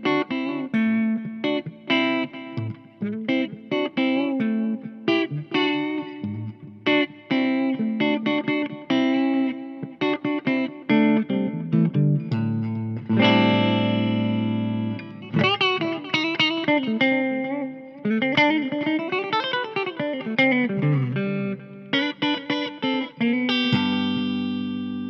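An EVH SA-126 Special quilted maple electric guitar plays with both pickups on and both tones fully up, picked phrases and ringing chords running steadily, close and clear, with no talk.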